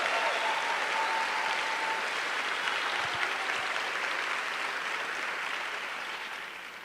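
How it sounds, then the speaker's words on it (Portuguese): A church congregation claps together in sustained, dense applause through the whole stretch, slowly fading toward the end. "Você vai aplaudir, aplaude direito"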